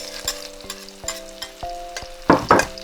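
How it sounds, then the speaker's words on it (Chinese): Potato cakes stir-fried with cured pork and green garlic in a wok over high heat, with loud rhythmic scraping strokes of the spatula over a steady sizzle, ending in two heavy tossing clatters. "快速翻炒均匀，我们就可以出锅了。"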